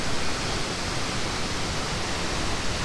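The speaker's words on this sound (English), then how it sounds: "we are at Panther Creek Falls in Washington. You can see that these are some gorgeous falls." Panther Creek Falls, a mossy waterfall in Washington, roars as a steady, loud, close wash of rushing water with no voices over it.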